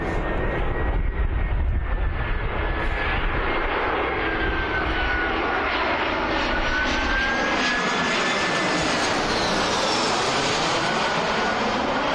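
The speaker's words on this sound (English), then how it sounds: "Coming in now is EasyJet from Paris." An EasyJet airliner arriving from Paris passes over Birmingham Airport, a loud, steady jet roar with a slowly shifting whine that swells and fades over about twelve seconds, with no voices.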